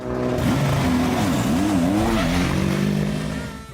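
Race cars lapping the Sebring circuit during WEC 2022 pre-season testing, an engine note rising and falling through gear changes, loud and continuous, fading slightly at the end.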